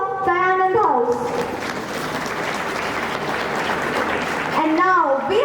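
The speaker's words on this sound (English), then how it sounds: "A huge round of applause for the new upcoming cabinet members" Sustained clapping from a school crowd at a swearing-in ceremony, loud and dense, with an announcer talking at the start and again at the end.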